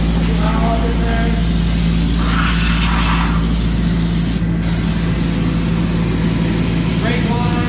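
Krown rust-proofing undercoating sprayed onto a car's strut, a steady hissing aerosol spray running alongside a low idling engine hum, with a sharp burst of spray near the middle and brief talk in the background.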